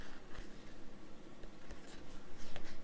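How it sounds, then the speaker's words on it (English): A pencil scratches across music paper in quiet, irregular strokes, faint and close, with no talking over it. "Writing."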